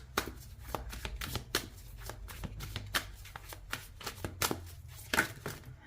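Tarot cards being shuffled up close, a steady run of crisp riffling and sliding bursts with sharp card snaps, no voices.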